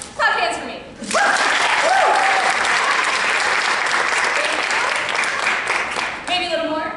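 An audience at a storytelling play breaks into steady, full applause lasting about five seconds, with a voice speaking briefly just before and after.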